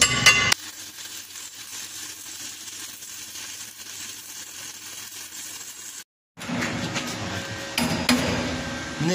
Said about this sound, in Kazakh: Яғни дәнекерлейміз, пісіреміз.